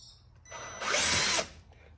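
Case trimmer cutter biting into 223 brass as it is shaped into 300 Blackout cases, a single close whirring cut of about a second that swells and then stops, with no talk.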